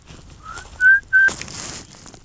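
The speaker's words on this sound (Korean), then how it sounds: "이번엔 휘파람으로 더 친근하게 다가봤습니다" A person whistles outdoors in a desert while greeting a camel: three short, clear rising whistle notes, the last two louder, over faint wind and background noise.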